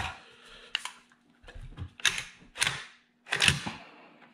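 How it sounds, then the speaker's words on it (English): DS Arms SA58, an FN FAL clone rifle in 7.62 NATO, being cleared: a quick series of sharp metallic clacks and clicks from the action, close up and crisp, with short quiet gaps between. "We'll go ahead and clear it."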